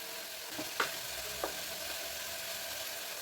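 Brinjal pieces frying in oil with chili powder in a home kitchen, a steady soft sizzle with a couple of faint pops and clinks, no voices.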